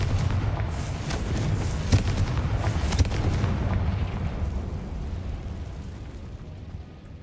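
Repeated explosive spell blasts burst in Hogwarts Legacy, loud rumbling booms with sharp cracks near 2 and 3 seconds over a dense continuous roar that gradually fades, with no talking.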